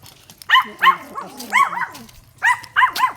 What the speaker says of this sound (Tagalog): Alam niya kasi tinatahulan niya.